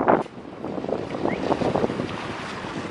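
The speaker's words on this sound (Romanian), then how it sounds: "Bate vântul. Bate vântul," Wind buffets the microphone, a steady rushing roar with gusty swells, close and loud throughout.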